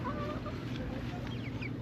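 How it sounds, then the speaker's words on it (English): Chickens and a rooster at a campground farm cluck in soft, scattered calls against steady outdoor background noise. "Look, and there's the rooster."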